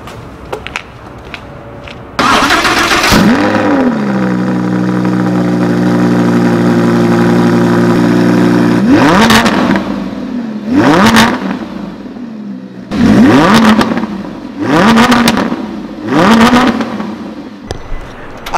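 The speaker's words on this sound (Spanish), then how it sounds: "voy a encender este auto para que lo escuchen cómo truena" A Lamborghini Huracán fires up with a loud starter whine and roar. It settles into a long, steady idle, then cuts loose with several sharp, booming revs in quick succession, close and very loud.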